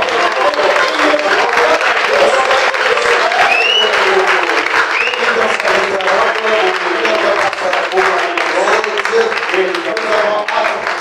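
A church congregation breaks into sustained, dense applause, loud and steady throughout, with scattered voices and cheers mixed into the clapping.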